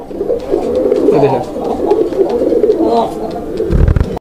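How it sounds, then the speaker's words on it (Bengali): A pair of Raj Golla pigeons coo in low, repeated throaty rolls close by, with someone talking over them and a brief thump at the end. "কালারিং রাজগোল্লা কবুতর তো এইটা কিন্তু একদম স্পেশাল একটা কবুতর"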